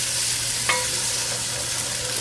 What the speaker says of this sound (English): because now we're stewing.